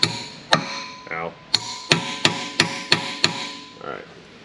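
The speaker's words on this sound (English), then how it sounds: "I'll put an extension on it to hammer it home." Hammer blows drive a fastener home through an extension during a brake job on a 2015 VW Jetta: seven or eight sharp, evenly spaced metallic strikes, close and loud, with a brief rattle between the first blows.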